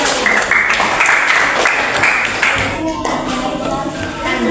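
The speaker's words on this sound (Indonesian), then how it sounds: "Tepuk tangan untuk Islamiyah." A small group claps for Islamiyah during a teachers' coaching session, a loose patter of hand claps in a room with talk mixed in.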